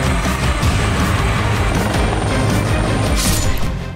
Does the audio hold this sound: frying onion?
no